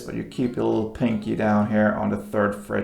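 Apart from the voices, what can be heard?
No everyday noise stands out behind the speech.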